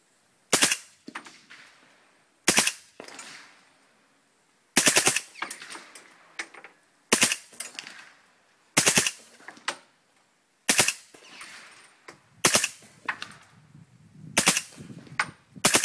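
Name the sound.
suppressed subsonic .300 Blackout gunfire in the woods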